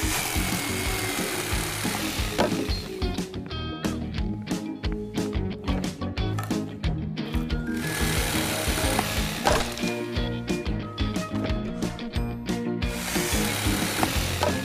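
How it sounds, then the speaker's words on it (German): In a Bob the Builder cartoon, a power saw cuts through a wooden shelf board, a loud continuous buzzing whine that rises and falls as the blade bites, with clattering strokes throughout. "dann wollen wir mal sägen"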